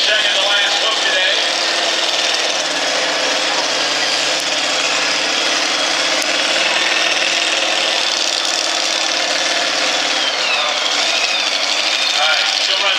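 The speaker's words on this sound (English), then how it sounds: "Full throttle, her Chevy S10." A Chevy S10 truck engine runs at full throttle during a farm stock tractor pull at a county fair, roaring steadily and loudly for the whole stretch with crowd and announcer noise mixed in.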